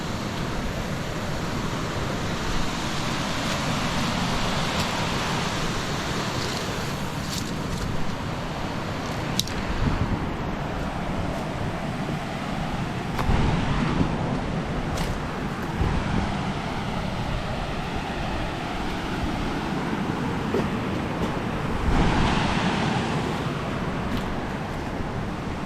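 Waterfall in Panthertown Valley rushing in a steady, loud broadband roar that holds unbroken throughout, close by and with no voices over it.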